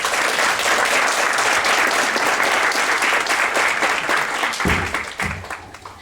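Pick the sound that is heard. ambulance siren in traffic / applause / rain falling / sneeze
applause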